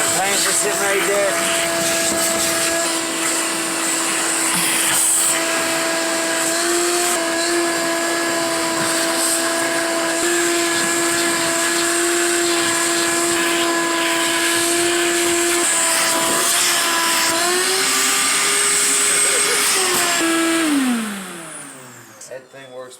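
A Ridgid 16-gallon 6.5-peak-HP NXT wet/dry shop vacuum runs at a steady, loud whine for about twenty seconds, then its pitch drops as the motor winds down and shuts off.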